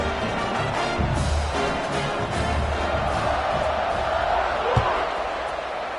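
Stadium crowd roaring steadily in a football video game during a kickoff, a dense continuous wash of cheering with a brief thump near the end.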